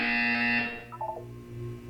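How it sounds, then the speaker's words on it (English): A short electronic buzzer in Portal 2 during a wellness exercise: a bright sustained tone that cuts off, followed by a few faint lower beeps, close and clear with no voice. "When you hear the buzzer, look up at the ceiling"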